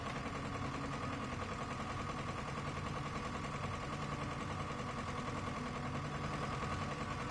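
A steady engine drone runs in a horror video game, Layers of Fear, holding a constant level throughout with a low rumble and a faint tonal hum layered over it.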